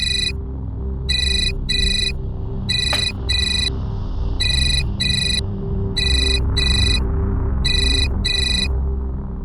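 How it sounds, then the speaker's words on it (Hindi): A mobile phone ringtone plays loud and close, repeating bursts of bright electronic double-pulses in a steady rhythm over a low background hum, with no talking. "नीता, तुम्हारा फोन बज रहा है।"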